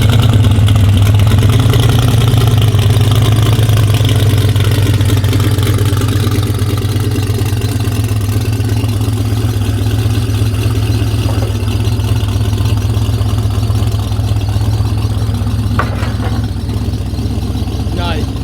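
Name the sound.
twin-turbo F-body car engine revving on dyno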